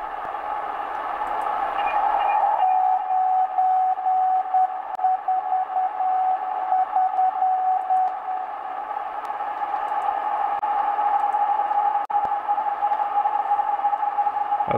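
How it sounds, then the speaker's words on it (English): Slow Morse code on a Sony ICF-SW7600 shortwave radio, a steady tone keyed in long, unhurried beeps above a constant hiss of static, with no one speaking for most of the stretch. "So that's quite slow Morse by the sound of it."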